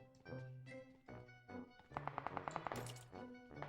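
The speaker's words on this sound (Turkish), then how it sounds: "Bot Bootcamp'in her yerinden silah sesleri geliyor" Quiet gunfire in PUBG Lite, with short bursts and then a rapid string of about eight shots.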